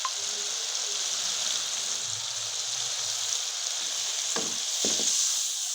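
Tomato frying in ghee with masala in a pot, a steady bright sizzle throughout with a few soft stirring clinks and scrapes toward the end.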